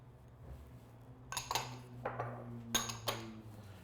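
Jalapeno pieces drop into a bowl while strawberry mango salsa is being made, giving a few light clinks and taps of a few seconds against a quiet low hum.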